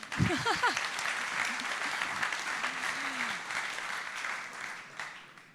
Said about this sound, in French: On applaudit Jacques-Yves